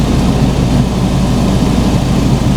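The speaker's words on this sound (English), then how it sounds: "So that's just the engine running now." A Fiat 500 car engine runs at idle close by, a loud, dense, steady rumble with no change in pitch or rhythm throughout.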